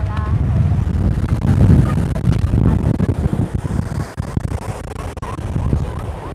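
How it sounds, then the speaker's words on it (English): Heavy, gusty wind buffeting the microphone at a resort in Palmanova and Magaluf, Mallorca, in the evening, a constant low rumble with surges, over faint background activity. "And it's so windy you probably can't hear me."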